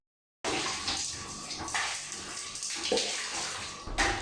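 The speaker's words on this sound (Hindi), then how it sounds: "अब जब हम लोगों ने इसको नहलाना शुरू करना है ना सिंपल पानी से" Running water pours steadily from a tap during a bath for an aggressive cat, a close, continuous splashing stream that starts suddenly after a brief silence and surges in places.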